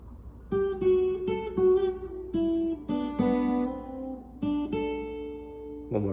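A slack key guitar plays a short phrase from the Hawaiian piece Kealoha, plucked notes and hammer-ons ringing one after another in a gentle, even rhythm. The guitar is heard alone, close and soft.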